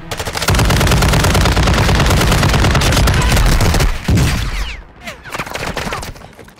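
Video game gunfire from the Chimera gun on the Vondel map: a loud, dense burst of rapid automatic shots for several seconds, a brief break, then more shots.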